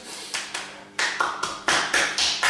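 Cupped open hand or fist patting and clapping against the body and face during a breathing and fascia exercise routine, a series of about nine soft, close slapping taps, spaced irregularly and getting louder and quicker toward the end.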